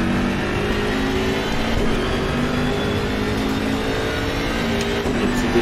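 Simulated BMW M6 GT3 race car engine in Assetto Corsa Competizione, at Autodromo Enzo, droning and revving continuously at steady high volume with shifting tonal bands, with a hint of voice underneath.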